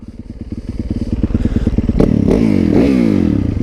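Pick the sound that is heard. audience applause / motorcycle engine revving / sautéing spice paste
motorcycle engine revving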